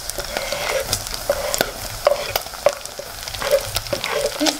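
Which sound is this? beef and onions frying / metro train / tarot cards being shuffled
beef and onions frying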